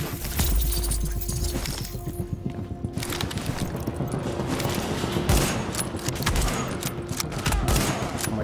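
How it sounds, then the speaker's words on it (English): Rifle fire in The Division's Grand Central Station mission, with a sniper shooting during the firefight. Sustained, dense bursts of shots over a constant battle din, with no voices. "Is there a sniper back there hitting me?"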